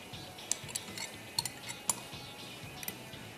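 A spoon stirs a desi fish curry in a pot after coconut milk goes in. Light metallic clinks and taps come at irregular intervals over a quiet kitchen background.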